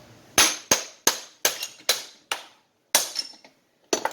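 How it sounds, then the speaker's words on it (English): Eight sharp metallic hammer strikes on the tabs of an airless paint sprayer part, in an uneven rhythm, each ringing briefly, loud and close with short gaps between blows. "You hit the hammer on the tabs."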